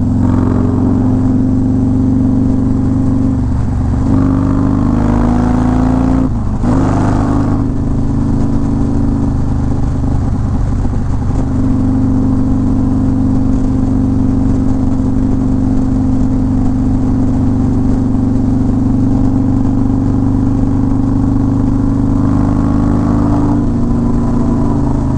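A Harley-Davidson Road Glide with a 107 engine and Star Racing 3030 cam rumbles steadily while riding, a loud continuous engine drone with slight rises and dips in pitch as it shifts and cruises, with wind noise.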